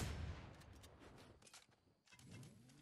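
Faint Fortnite gunfire on a phone: a few quick, distant shots crack out over a low background, with a brief lull before more activity resumes.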